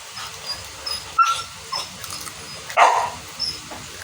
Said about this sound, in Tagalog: Aso namin nun, huwag kayo maingay.